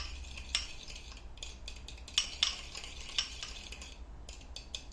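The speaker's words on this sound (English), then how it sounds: "Whisk it together." Whisk clinking against a bowl as egg yolks are beaten with red wine, with light, irregular metallic taps and scrapes, fairly close and quiet, no voices.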